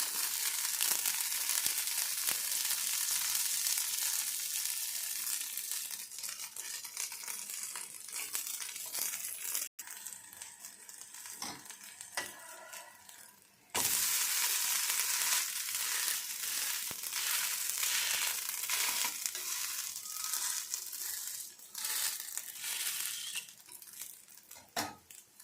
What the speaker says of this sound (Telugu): ఇలాగా 2 వైపులు ఎర్రగా కాల్చుకోవాలండి.